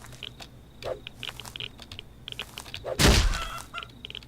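Chicken in the game Rust squawks and clucks in short bursts, then a sharp crunching hit lands as it is attacked and killed, fairly close and with no talk.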